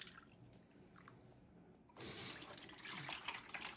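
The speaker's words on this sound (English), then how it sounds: "We're going to add a little bit of apple cider to the bottom of this tray" Apple cider is poured into the bottom of a roasting tray for a turkey, a faint low trickle that becomes a louder, steady splashing stream partway through.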